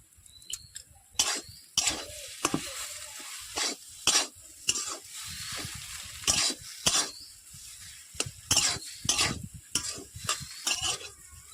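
Potatoes coated in coriander and spice powders are stirred and fried in a pan for pakora. A spoon scrapes and clatters in repeated, irregular strokes over a soft sizzle, up close and without talk.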